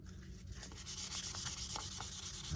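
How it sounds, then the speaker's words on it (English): Propeller being hand-sanded with finer-grit sandpaper, a steady close scratchy rubbing with short repeated strokes, no voices. "using a more grit sandpaper, which would feel smoother"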